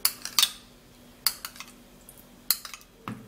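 A spoon clinks and scrapes against a bowl while stirring a papaya face mask mixture, giving a few sharp, close metallic taps with soft scraping between them.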